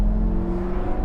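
A Lamborghini Gallardo V10 engine gives a deep, steady rumble, holding a low, throaty idle-rev tone for about a second, loud and close, with no voices.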